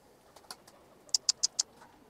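Pigeons of the Boğma and Hünkari breeds give a few soft, faint coos, followed by four sharp, evenly spaced calls in quick succession.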